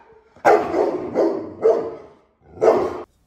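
A police K9 dog barks at strangers inside a home, four deep, forceful barks with short gaps between them, loud and close, with no talking over them.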